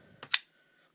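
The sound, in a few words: Kershaw Blur pocket knife blade flicked open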